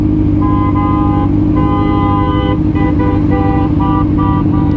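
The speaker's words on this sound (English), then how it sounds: "they're honking" Car horns honk repeatedly in heavy traffic, with several loud overlapping toots of varying length over a constant roar of engines.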